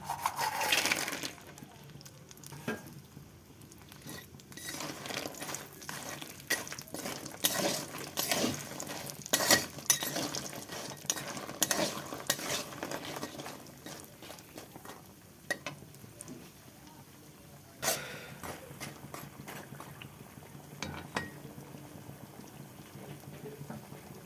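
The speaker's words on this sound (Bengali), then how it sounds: "এই মাছ ভাজা তেলের মধ্যে আমি বড়িগুলো ভেজে নেব" Lentil dumplings (bori) frying in leftover fish-frying oil, a steady close bubbling crackle with scattered sharp pops and spatters throughout, no talking.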